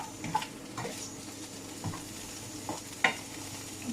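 Garlic and shallot with mushrooms fry in a pan under a soft, steady sizzle, with a few scattered scrapes and light clicks of stirring, quiet and close.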